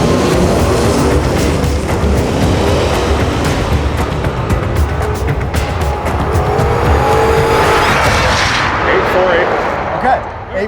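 A drag racing car on 17-inch slicks launches with a roaring, crackling engine and tire noise that stays loud and continuous, then tapers off near the end, with voices heard partway through.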